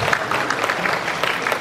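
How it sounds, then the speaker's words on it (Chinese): Church congregation applauding a guest, a dense, steady patter of many hands clapping at close range with no gaps over a short stretch. "我们拍手谢谢他"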